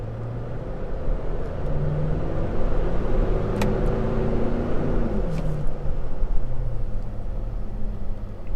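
A steady, loud engine roar with low rumble builds continuously, a 2019 Nissan Titan XD pickup truck accelerating hard at wide open throttle, heard from inside the cabin.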